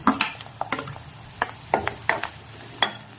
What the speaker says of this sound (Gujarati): હવે આપણે એમાં મરચાં નાખીશું।